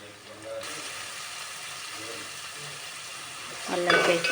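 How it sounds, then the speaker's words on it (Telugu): Onions frying in a pan make a soft, steady sizzle, and a faint voice runs underneath it. A brief louder clatter of cookware comes near the end. "ఉల్లిగడ్డలు అయితే ఇలా వేగుతున్నాయి, ఇంకొంచెం వేగనిద్దాం."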